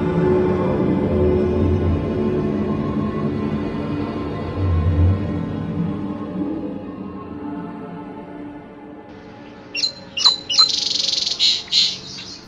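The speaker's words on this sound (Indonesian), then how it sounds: "burung-burung bel sudah mulai mengumbar kicauan subuhnya" Birds at dawn give a few sharp, clear chirps near the end after a low rumbling bed of ambient sound fades away.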